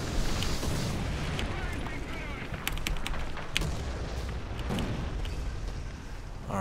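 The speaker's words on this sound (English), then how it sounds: "I think that was artillery that got us right there" Artillery shells explode around a tank in War Thunder, a continuous rumbling barrage of booms and blasts with sharp bursts near 2.7 and 3.5 seconds, loud and dense throughout under game noise.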